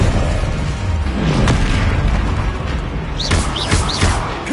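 Confringo spell blasts in Hogwarts Legacy, a run of deep booming explosions rolling through continuous combat noise, with a few quick sharp whooshing bursts clustered near the end.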